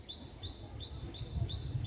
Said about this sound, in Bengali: পাখির ডাক শুনতে পাচ্ছেন